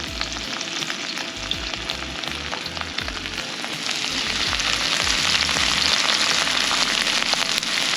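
Conch frying in a pan over an open campfire on a Bahamas camping trip, a loud continuous sizzle and crackle that swells in the second half, with no voices.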